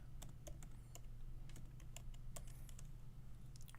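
A prompt for ChatGPT is typed on a computer keyboard, a steady run of crisp, close key taps with small gaps, fairly quiet over a low background hum, no voices.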